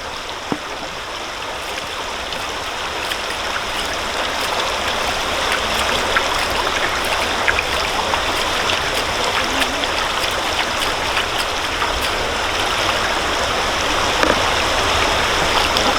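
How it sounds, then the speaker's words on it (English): Steady running water splashes and rinses continuously over a metal sluice box used for gold sluicing, close and fairly loud, with small clinks and knocks now and then. "I'm going to rinse it off right here over my sluice box."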